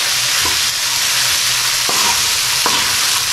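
Cluster beans (guar phali) sizzle and fry on a hot tawa, a loud continuous crackle with a few brief scraping stirs of a spatula.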